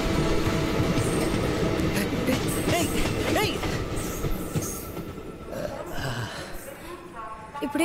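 A train rumbles past with clattering wheels and intermittent metallic squeals, loud at first and then gradually fading, while people talk over it.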